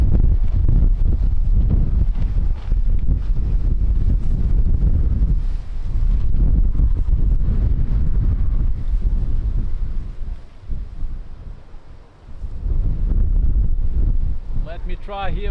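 Strong gusting wind at Lisbon Airport buffets the microphone in loud, rumbling surges that ease briefly before building again, while a voice talks faintly underneath.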